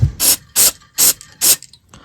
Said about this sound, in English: So what I like to do with the tuning capacitor is I spray it out first with the contact cleaner just to get any dirt